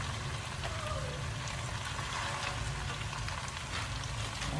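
Cabbage goes into a small, hot frying pan for a Filipino ginisang repolyo, giving a steady, close sizzle and crackle that carries on without a break. No one talks.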